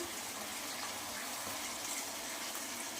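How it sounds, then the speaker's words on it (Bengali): Water pours into a chicken and potato curry cooking in a pot, a steady, even gushing stream that continues throughout without talk. "এবার আমি জলটা দেব"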